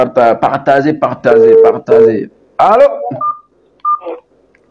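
A voice talks, then a few short electronic telephone tones sound as a call is being placed.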